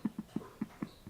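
A thirsty dog laps water from a bowl in a quiet room, six rhythmic soft slurps evenly spaced and fairly faint, with no voices.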